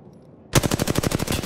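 Gunfire in Apex Legends: a sudden, loud, close burst of rapid automatic shots with an even rhythm after a brief quiet start.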